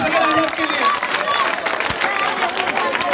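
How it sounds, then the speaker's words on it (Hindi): Applause at a memorial gathering for an NSG commando, quick mixed clapping over a crowd murmur, loud and steady for a few seconds with voices in the background. "जोरदार तालियां बजा दो चंद्रशेखर आजाद के लिए"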